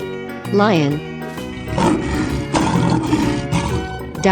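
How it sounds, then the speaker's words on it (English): A lion in a 3D animal slide game lets out a rising, wavering call, then a longer, loud, rough roar that sustains with pulsing swells through the rest of the moment. "Lion."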